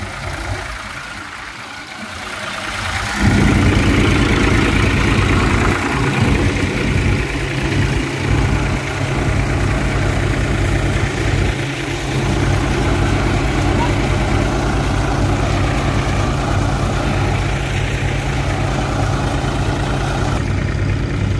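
A 35 HP Mahindra 275 tractor engine starts up and runs a thresher in a steady, loud, droning rumble that continues without a break.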